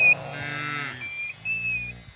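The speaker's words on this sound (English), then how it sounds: "Listen, it's a cow mooing." A cow moos loudly and close, one long drawn-out low call followed by a shorter second moo, heard alone with no talking.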